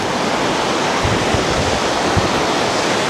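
Bright Angel Creek in the Grand Canyon rushes beside a bridge, its water making a continuous, loud, broadband roar of flowing rapids with a few low thumps mixed in.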